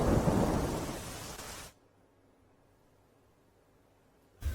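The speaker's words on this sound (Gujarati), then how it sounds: "દ્વારકાના કલ્યાણપુરમાં 12 ઇંચ વરસાદ વરસતા ખંભાળિયાથી કલ્યાણપુર જવાના માર્ગ પાણીમાં ગરકાવ" Heavy monsoon rain with thunder over Kalyanpur in Dwarka, Gujarat, as a loud, dense roaring wash for under two seconds, then near silence before another brief burst at the end.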